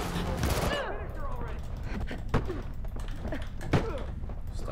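Gunfire in Mirror's Edge Catalyst, a few sharp shots and thuds ringing out over continuous game noise, with a person talking during the action.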